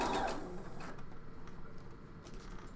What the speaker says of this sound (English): right now, what I'm doing is I'm sewing the armhole, the front to back, the armhole